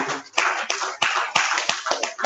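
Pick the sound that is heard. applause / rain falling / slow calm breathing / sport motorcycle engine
applause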